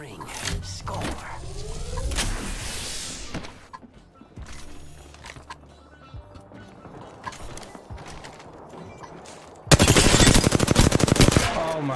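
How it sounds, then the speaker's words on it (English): Automatic gunfire in the battle royale game Apex Legends: a loud, rapid burst of shots near the end, after a stretch of mixed game effects and quieter intermittent noises, with people talking over parts of it. "Taking fire."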